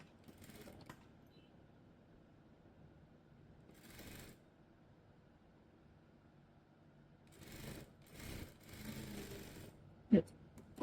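A sewing machine stitches a frock in short, quiet bursts of mechanical whirring separated by pauses, with a few faint clicks and handling noises near the end.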